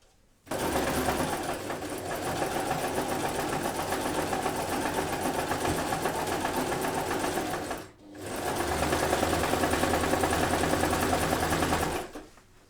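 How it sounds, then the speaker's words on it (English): A sewing machine runs a zigzag stitch over the raw fabric edge of a babydoll top, humming steadily for about seven seconds, pausing briefly, then whirring on again, close and alone. "I'm just going to use this zigzag stitch and just go over all the work"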